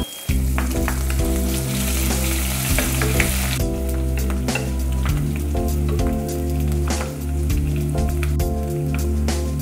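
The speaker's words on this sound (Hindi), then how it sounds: "अब इसी ऑयल में अदरक लहसुन का पेस्ट डालेंगे।" Ginger garlic paste sizzles loudly in hot oil left from frying onions, a close, dense crackle with spattering pops and stirring scrapes throughout; no one speaks.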